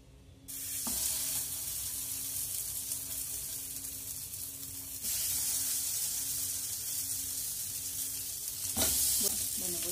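Cassava arepas frying in hot butter in a pan, a steady bright sizzle that begins abruptly and swells louder midway, with a few faint clatters near the end.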